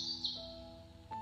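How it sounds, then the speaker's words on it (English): Faint, high bird chirps and tweets against a quiet background, brief and soft. "You can hear the birds singing."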